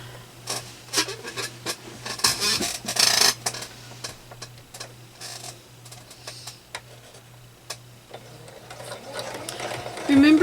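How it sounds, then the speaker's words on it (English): A sewing machine stitches across a Bright Morning Star quilt block, running in bursts of steady mechanical whirring and ticking, with a low hum beneath and a voice talking over parts of it. "And now we're going to just sew across. I'm just going to sew this down."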